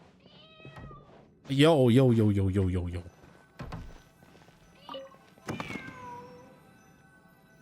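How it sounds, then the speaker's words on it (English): A cat meows loudly behind a picture frame in the video game Genshin Impact, one long wavering cry followed by a shorter, fainter one, with a brief spoken word beforehand and game ambience around it. "Can hear a cat cry a clear louder now."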